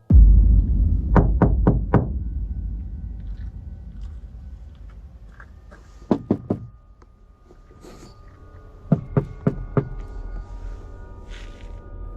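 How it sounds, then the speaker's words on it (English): A stranger pounds and knocks on the panels of a van parked in a forest at night: three separate bursts of four or five sharp, hollow knocks, each burst quick and rhythmic, with quiet gaps between them against a low rumbling background. "A stranger began pounding on the panels, knocking in different places as if testing for a reaction"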